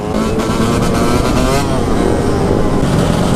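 Several 125cc two-stroke motorcycles ridden together at night on city streets, a loud continuous buzzing engine roar with revving, close and dense throughout, with faint voices mixed in.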